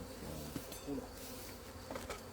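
Honey bees buzz steadily at an opened hive during a transfer from one hive to another, a dense continuous drone close by with a few brief knocks, no talk.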